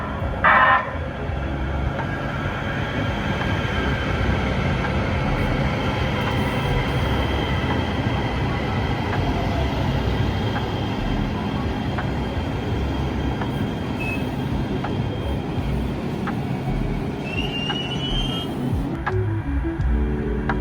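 A Metro A Line light rail train rumbles past or along the tracks, a loud continuous roar of wheels and motors with a squealing tone near the start and faint metallic squeals later, sustained for twenty seconds.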